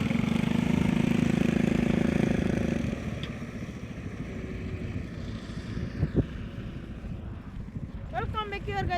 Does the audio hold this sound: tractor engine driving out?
yes